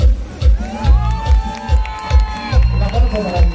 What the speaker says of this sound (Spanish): ahora el aplauso para este